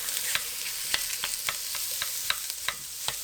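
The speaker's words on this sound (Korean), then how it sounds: "자른 삼겹살을 넣고 볶아줍니다." Sliced pork belly stir-frying in a pan with green onion, a steady loud sizzle broken by regular sharp scraping taps of the spatula roughly every half second.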